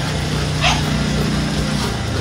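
Brindle-and-white guard dog gives a single short, close bark or yip, with a faint higher whimper after it over a steady background hum.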